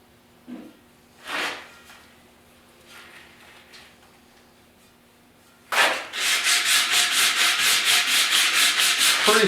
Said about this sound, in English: We're just going to sand this out. I'm using some 80 grit here.